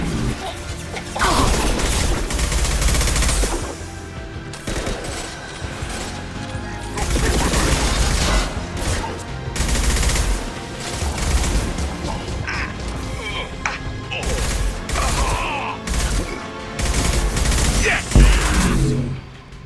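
Gunfire and impacts in the video game Mass Effect 2: repeated sharp shot bursts and crashes pile up over dense, loud game sound throughout.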